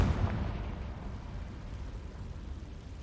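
A Confringo blasting spell detonates in Hogwarts Legacy, a loud low boom at the start that rumbles on as a sustained, fading roar.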